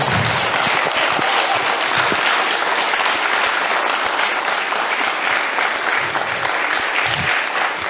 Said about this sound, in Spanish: Dale fuerte aplauso a Dios.